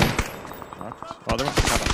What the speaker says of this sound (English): What gun is he shooting? M4.